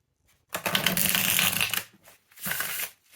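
Tarot cards are riffle shuffled twice up close: a long crisp flutter of flicking cards, a short pause, then a second shorter riffle.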